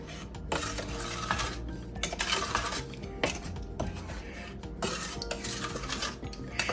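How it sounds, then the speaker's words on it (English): A spoon stirs meatball sauce in a metal pot, scraping and clinking repeatedly against the sides. The stirring is close and moderately quiet, with no voices. "Give it a good stir"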